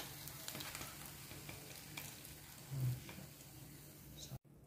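A homemade Jamaican burger patty fries in a pan with a faint, steady low sizzle and soft crackle, heard quietly and close with no talking.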